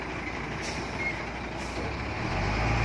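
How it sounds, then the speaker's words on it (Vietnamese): A large truck rumbles nearby with a low engine drone that builds toward the end, a faint high beep and hiss above it. "xe tải nó đang vô rồi"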